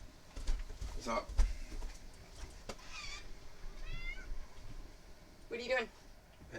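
A domestic cat meows a few times, short nasal cries scattered among soft rustling and household noise, with a person talking nearby.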